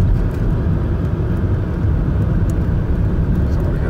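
A car passes while driving, a broad low rumble of engine and road noise filling the whole stretch, steady and loud without a clear rise or fall.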